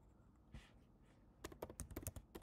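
Keys tapped on a computer keyboard in a quick, uneven burst of a dozen or so clicks, close and fairly loud, after a couple of soft muffled taps in a quiet room.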